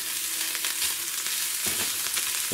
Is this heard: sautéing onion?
yes